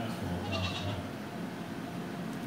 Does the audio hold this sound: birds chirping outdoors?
no